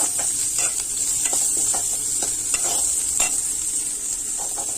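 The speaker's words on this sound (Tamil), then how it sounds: "வெங்காயம் நல்லா கிண்டி விட்டுக்குவோம்." Onions stirred and sautéed in a pan for a snake gourd side dish, a steady sizzle with repeated scraping strokes of a spoon, close and continuous with no talking.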